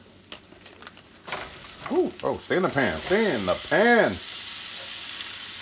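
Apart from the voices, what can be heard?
ground beef frying in a pan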